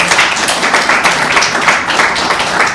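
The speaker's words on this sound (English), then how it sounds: "Please give them a big round of applause" Round of applause for the hosts at a devotional seminar gathering, steady dense clapping from a room of listeners filling the whole moment at an even level.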